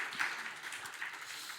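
A church congregation applauds during a Sunday worship service, a soft, steady patter of clapping that sounds distant and fairly faint throughout.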